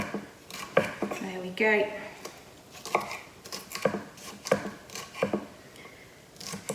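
Knife slicing peppers on a cutting board while preparing a red Thai curry, giving a series of short, close chopping taps with a brief pause, under occasional kitchen talk.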